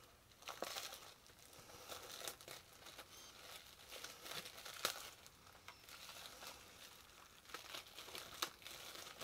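Packaging crinkles and tears during the unboxing of a Shout Factory movie haul, a steady rustle with scattered sharper crackles, faint and close, with no voices.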